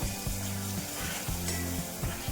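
Ground masala paste sautéing in a pan on low gas, a steady close hiss of frying with faint stirring scrapes throughout.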